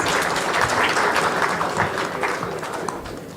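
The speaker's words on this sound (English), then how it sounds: "I give you a round of applause." Audience applause at an academic felicitation function in a hall, a loud burst of many hands clapping that starts strong and gradually thins and softens toward the end.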